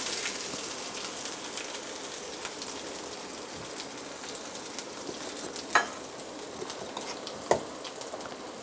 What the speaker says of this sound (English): now mix all these ingredients